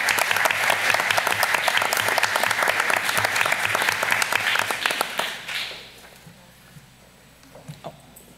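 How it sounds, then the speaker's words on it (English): A room at a school board meeting fills with loud, dense clapping from the audience for student artists and their teachers, lasting about five seconds before fading out into quiet room noise with a few scattered sounds. "Let's give our students, artists, a round of applause, and to their teachers as well."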